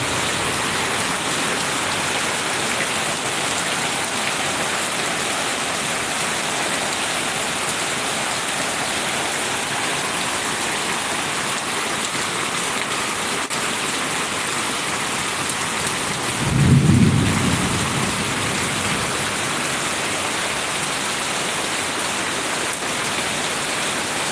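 Heavy rain pours in a constant dense hiss, and one short, deep rumble of thunder rolls through partway in.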